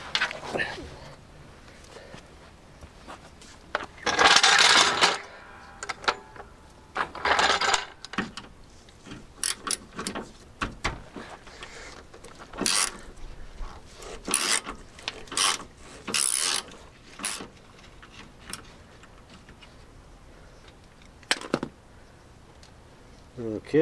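Hand tools slackening a bolt under a Land Rover Discovery 2, heard as scattered ratchet clicks, metallic knocks and scraping bursts with quiet gaps between them, close by, with occasional speech.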